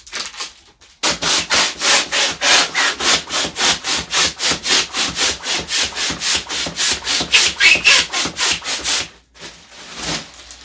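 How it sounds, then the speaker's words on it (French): A manual hand pump inflating a large balloon, stroked in a fast, even rhythm of about two dozen loud, breathy whooshes close to the microphone, each push and pull clearly separated, with no talking. "Je vais avec ma pompe manuelle."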